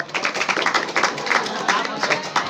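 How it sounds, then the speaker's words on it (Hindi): Brisk clapping from a group of students in a coaching class in Bihar, a quick run of sharp hand claps at close range with a few voices mixed in. "तो इसके लिए ताली हो जाए।"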